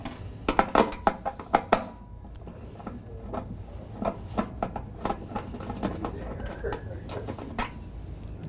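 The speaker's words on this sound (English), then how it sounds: "Let's go ahead and remove those screws." Screws being removed from a furnace blower panel, producing a series of sharp metallic clicks and rattles in bursts with quiet handling noise between them.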